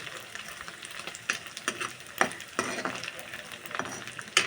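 Ingredients for egg fried rice fry in a pan, a steady crackling sizzle broken by repeated scraping stirs and occasional louder clacks of the spoon, with no voices.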